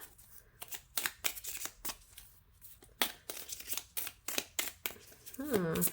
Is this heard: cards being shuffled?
yes